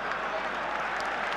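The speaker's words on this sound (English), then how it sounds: "Spurs are being shouted on by this huge crowd now" A huge football crowd roars and shouts continuously at Tottenham Hotspur v Anderlecht in the 1984 UEFA Cup Final second leg, a dense, steady wall of stadium noise with no pauses.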